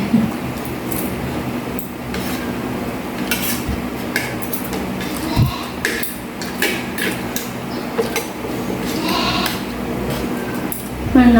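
Goats bleat intermittently amid clattering metal and dish sounds, with people talking throughout in a busy, noisy setting in Pangasinan, Philippines.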